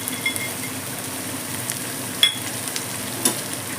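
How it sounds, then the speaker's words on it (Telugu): Thinly sliced onions and cashews fry in a pan for a chicken fry masala, making a continuous low sizzle with occasional light clicks of a spoon. "ఆనియన్స్ చూసారా ఎంత సన్నగా ఎంత మంచిగా కుక్ అవుతున్నాయి"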